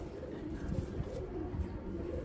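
Pigeons coo softly in a breeding loft, several low, rounded calls repeating close by under faint background noise.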